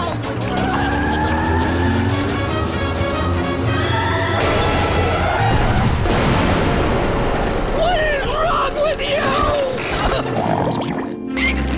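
A cartoon explosion at a bomb testing site booms in a loud, continuous burst of blasts and rumble with crashing debris, a busy mix of cartoon sound effects and music running throughout.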